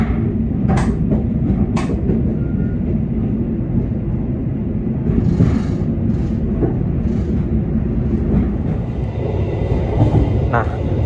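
Steady low rumble of the Jayabaya passenger train departing Tegal station in Indonesia, with faint clanks and a brief high squeal, continuous throughout.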